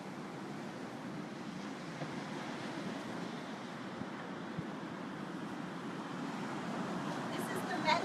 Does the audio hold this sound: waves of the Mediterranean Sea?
yes